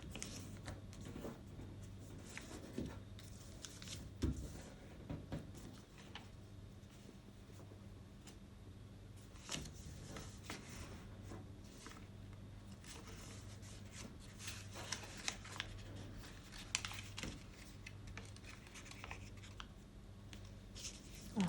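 Sheets of paper are creased and folded for origami, producing quiet, repeated rustles and soft pressing scrapes spread over a long, low hum of room noise.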